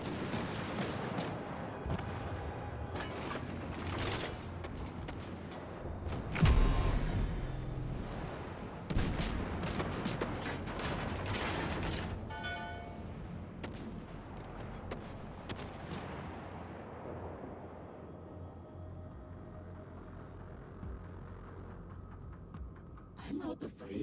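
Naval guns firing in World of Warships: Legends, one heavy booming salvo early on over a continuous dense din of battle noise and distant explosions, gradually thinning toward the end.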